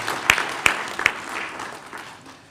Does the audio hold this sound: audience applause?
yes